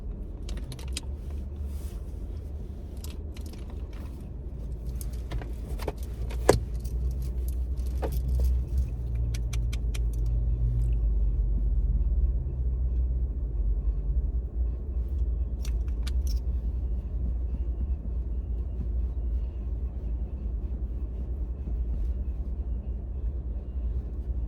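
Steady low rumble inside a parked car, with scattered light clicks and taps in the first half and a few more near the middle, no talking.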